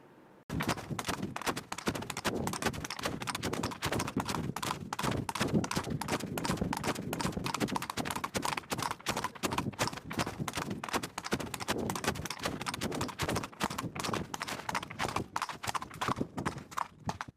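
Horse hooves clip-clop in a fast, steady galloping rhythm, loud and close, running without a break for over fifteen seconds with no talk.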